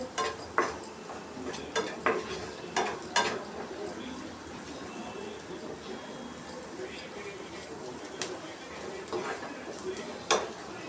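Vegetables with capsicum are stir-fried in a pan: a spatula scrapes and taps the pan in irregular clicks over a low sizzle, while people talk nearby.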